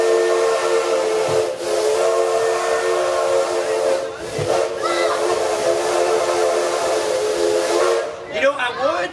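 A garden railroad steam locomotive sounds a long chord whistle with a hissing edge, broken by brief pauses and blown again, loud and close, ending in a few warbling tones.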